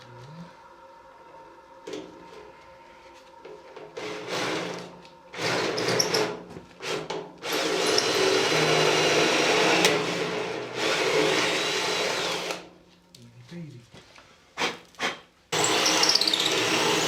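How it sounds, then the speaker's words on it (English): Power drill boring through metal during a full restoration of a Series Land Rover, with several long loud whirring bursts separated by short pauses and brief stops near the end. "More mighty drill this time."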